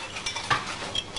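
Ingredients for a low-calorie spicy Thai salad being tossed and mixed, a short burst of soft stirring and light utensil clinks at close range, no voices.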